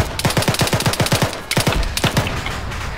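Rapid gunfire from enemies to the north in a military shooter game: a quick string of sharp automatic shots, a short pause, then another burst of reports trailing into distant crackle.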